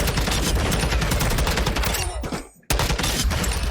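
Rapid, dense gunfire from an aim-training shooting game fills the clip at close range, firing almost nonstop before a brief dip and silence near the end, then resuming just as loud.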